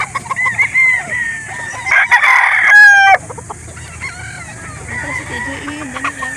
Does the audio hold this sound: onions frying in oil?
no